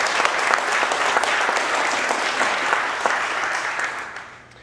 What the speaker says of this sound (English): So please, a big round of applause for all of them.